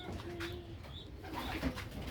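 Soft pigeon coos sound close by inside a pigeon breeding loft, a few low throaty calls over faint background hum.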